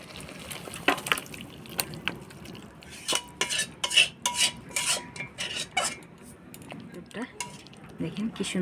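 Chicken curry being stirred in a pot after garam masala goes in, a spoon scraping and clinking against metal in irregular bursts, close and moderately loud, with faint kitchen noise between strokes.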